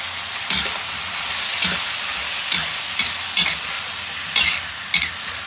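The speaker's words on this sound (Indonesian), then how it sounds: "Kita masukkan ini asinannya ya." Pickled vegetables stir-fried in a pan for Chinese noodles give a loud continuous sizzle, broken by periodic scraping strokes of a spatula about once a second, close and without talk.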